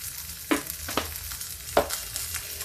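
Pointed gourd and potato pieces fry in a pan with a steady, low sizzle, broken by a few soft scraping stirs.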